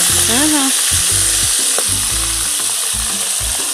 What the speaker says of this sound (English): Cooking with wood fire is not normal.